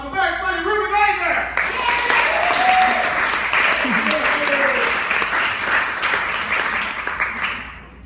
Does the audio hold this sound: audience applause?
yes